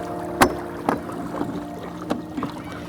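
Several sharp hollow clunks and knocks as an outboard motor is lifted on a small sailboat, spaced irregularly, over a low background of wind and water.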